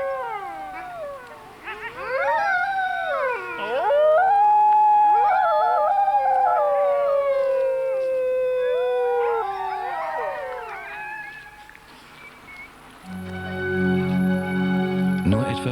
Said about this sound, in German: Das Heulen der Hunde ist die typische Melodie Grönlands.